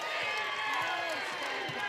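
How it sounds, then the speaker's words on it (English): Basketball arena crowd at a CUNY Beavers women's tournament game cheering loudly and steadily after a made basket, a dense continuous roar with scattered shouts, claps and faint court thuds. "And the crowd goes wild"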